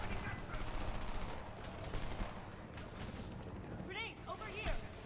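Heavy gunfire in the Homefront video game, a dense spray of rapid shots and bursts with occasional whistling sounds, loud and continuous.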